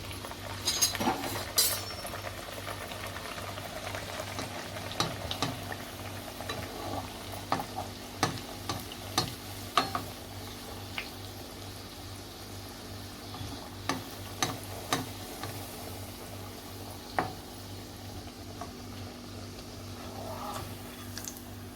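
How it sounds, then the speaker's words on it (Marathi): Puri frying in hot oil produces a soft, steady sizzle with scattered sharp clicks and taps of a utensil against the pan, fairly quiet and close, with a faint low hum underneath. "आता पुरी टाकते मी त्याच्यामध्ये तळायला पुरी सोडते मी तेलामध्ये"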